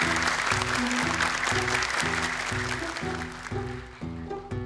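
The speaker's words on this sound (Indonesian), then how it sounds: "Tepuk tangan dong untuk Alifa." An audience at an Indonesian Quran memorization show applauds, dense steady clapping up close with rhythmic music beats running underneath, tapering slightly toward the end.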